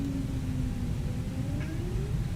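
A house cat lets out a soft, sustained meow that rises toward the end, heard indoors over a constant low rumble of room noise.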